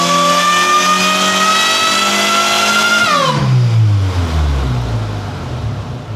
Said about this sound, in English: It's got a bad misfire.